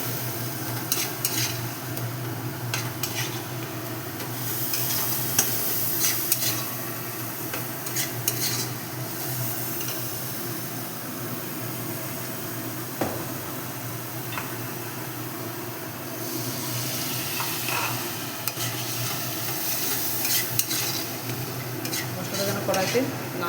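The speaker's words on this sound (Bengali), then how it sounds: "মশলাটা ভালো করে কষিয়ে দিলাম" Spice paste frying in oil in a pan, a constant sizzle with repeated scraping and clinking strokes of a spoon stirring it, close up and steady throughout.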